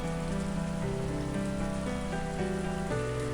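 Steady rain falling in a video game scene, a dense continuous hiss of drops on a surface under a looping low musical drone, with no voices.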